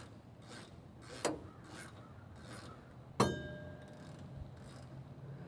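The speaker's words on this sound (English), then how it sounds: "So just gonna thread this in. Grab my ratchet." Ratchet threading a bolt into Dana 60 front brakes, quiet repeated clicking and rasping strokes with two sharper metallic clicks, close by and without talk.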